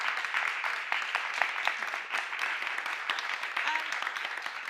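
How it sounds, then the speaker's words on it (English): Audience applause for panelists at an arts equity event, a steady, moderately loud patter of many hands clapping, with faint voices mixed in. "let's give a round of applause for our panelists."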